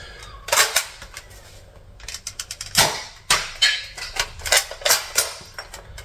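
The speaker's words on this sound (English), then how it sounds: "you can fire this traditionally, like a traditional K31" A K31 Obrez-style shell-ejecting dart blaster being worked by hand, producing a string of sharp, close plastic clacks and snaps of differing loudness, with no voices.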